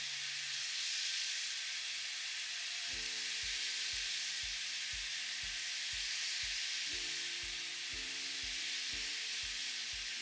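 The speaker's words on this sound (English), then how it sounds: "Five, 6 minute sear on this shrimp" Shrimp sear in a pan with a constant faint hiss and sizzle, joined after a few seconds by a regular series of soft scraping or tapping strokes, with no voices.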